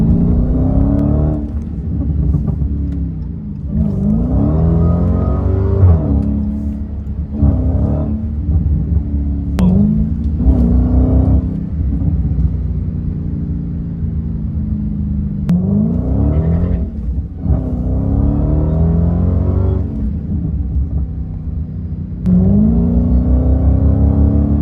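Dodge Challenger SRT Hellcat Redeye on a test drive: a loud, steady engine rumble throughout, with repeated revving surges and acceleration pulls rising and falling over the engine drone.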